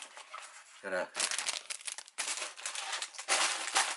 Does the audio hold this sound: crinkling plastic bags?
yes